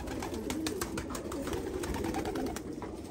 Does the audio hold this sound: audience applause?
no